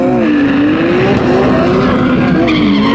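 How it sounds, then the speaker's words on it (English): Race cars at a racing competition roar past with loud, high-revving engines, rising and falling tones and tire squeal, continuous and close, with no talking. "The adrenaline rush you get through these loud engines and the speed that you're basically experiencing."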